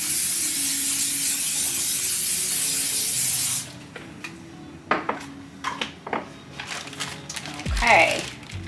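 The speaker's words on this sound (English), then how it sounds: "I'm gonna spray my pan here." Cooking spray hisses loudly and steadily from a can onto a baking pan for a few seconds, then stops, followed by light clinks and handling of the pan nearby.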